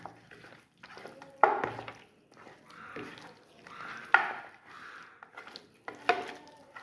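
Chicken leg pieces being mixed by hand with egg for binding, producing soft wet squelches and slaps in irregular bursts, close and fairly quiet.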